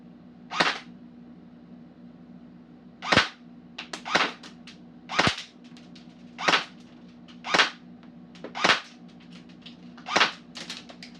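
An ICS Galil airsoft rifle fires single shots on semi-auto, about nine sharp cracks spaced a second or so apart, each followed by brief mechanical clatter, over a steady low hum.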